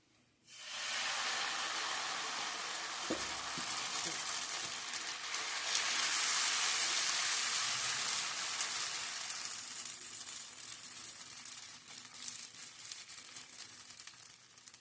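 Protein dosa batter poured onto a hot griddle bursts into a loud, close hiss that holds steady and slowly settles into a softer sizzle, with no speech.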